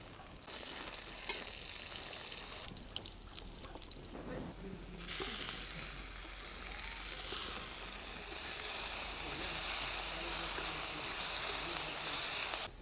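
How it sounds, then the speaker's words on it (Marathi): Green chilies roast in a pan during an outdoor forest-picnic cook of ambadi leaf bhaji: a steady close sizzle with faint stirring scrapes, swelling into a louder, brighter frying hiss about halfway through and holding to the end. "मिरच्या भाजून घेते ह्याच्यात आता"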